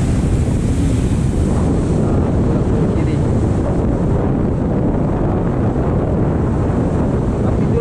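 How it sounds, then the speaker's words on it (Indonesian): Strong wind buffets the microphone over a continuous roar of rolling ocean waves on a beach at Pantai Senok, Bachok, loud and unbroken throughout. "Cuaca ni lah, angin kuat, ombak bergulung-gulung."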